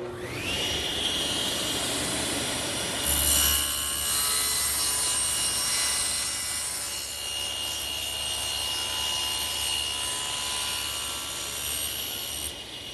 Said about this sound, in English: adjust the blade to 45 degrees for the miter cuts, and then we're ready to make the pass